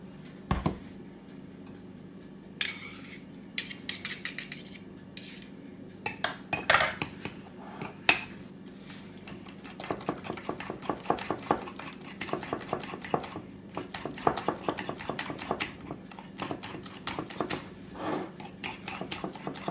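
Spoon stirring crème fraîche in a bowl for a spinach and cheese quiche, a steady run of close scraping and clinking strokes against the bowl with no talk.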